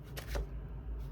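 A brief, soft riffle of tarot cards being shuffled, one quick burst that is quiet and close against a faint background hum.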